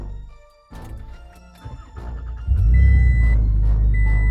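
A third-generation Toyota Tacoma pickup with an MBRP XP turn-down exhaust cranks and fires up, settling into a loud, deep, rumbling idle with a throaty exhaust tone, close by.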